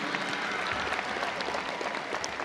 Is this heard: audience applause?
yes